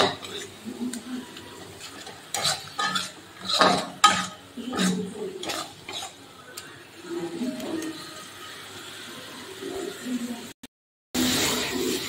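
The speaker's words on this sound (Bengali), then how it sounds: "দিয়ে এবার পেঁয়াজটা একটু লাল লাল করে ভেজে নেব।" Onion frying over a high gas flame for a giant prawn curry, with a spatula scraping and clinking against the pan in irregular strokes, close and moderately loud, under occasional talk.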